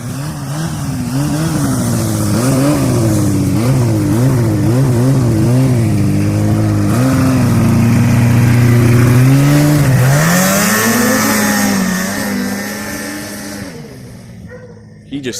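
A 1985 Yamaha Phazer snowmobile engine runs loud and close, revving up and down in repeated wavering surges, then holding a steady high drone before easing off, on a foggy day with little snow.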